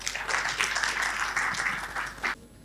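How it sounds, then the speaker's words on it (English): An audience at a family office summit and awards event applauds a panel, a full round of clapping that swells, holds steadily, then cuts off abruptly near the end. "a big round of applause for the panel"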